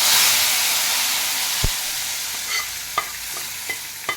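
Sizzling tempering with curry leaves is poured into a pot of mixed-vegetable sambar and stirred, leaving a continuous hissing sizzle broken by several sharp spoon knocks against the pot, with no talking.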